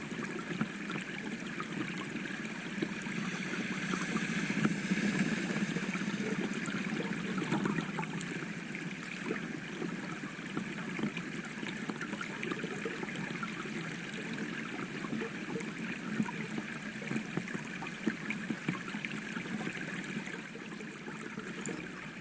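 Stream water at a motorcycle water crossing, a steady rushing, trickling wash of flowing water close by, swelling slightly early on and holding constant without voices.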